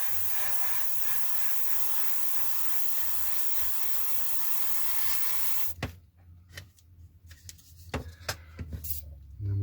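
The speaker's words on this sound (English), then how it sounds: "we'll spray it along the masking tape so we reduce the ridges" Airbrush spraying dark paint onto a 1/48 scale Kinetic F-104J Starfighter model kit, heard as a continuous close hiss for several seconds, then stopping into faint clicks and handling taps.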